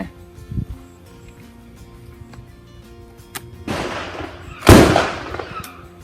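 Gunshots from a Baikal gun at a 50-meter shooting range: a faint early pop, then a burst of noise and a loud, close sharp report that decays over a second, with quiet, sparse surroundings.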